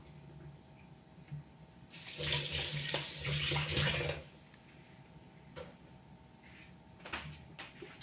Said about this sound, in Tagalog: hugasan natin ng maayos yung mga siya isda.